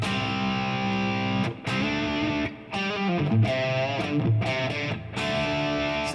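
Electric guitar crunch tone played through a Fractal FM-9 modeler, with distorted, chorus-tinged chords and riffs ringing out in phrases separated by brief pauses, full and upfront.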